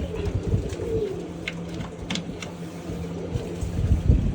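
Soft pigeon coos repeat close by over low background rumble and faint traffic-like noise.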